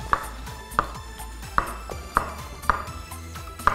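A knife slices mushrooms on a board in slow, steady strokes, each ending in a light tap, about six cuts in a row.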